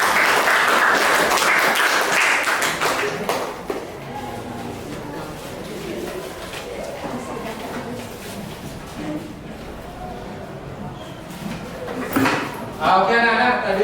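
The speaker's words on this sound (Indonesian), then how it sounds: "Oke, beri tepuk tangan." Classroom applause after student group presentations at a teacher-training session, a loud burst of clapping that fades into a busy room with clattering and murmuring voices.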